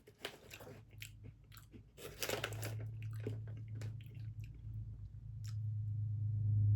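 Close, crisp crunching of a small, crunchy Polish snack stick being bitten and chewed, several sharp crackles at first settling into steady chewing, with a low steady hum underneath and no talking.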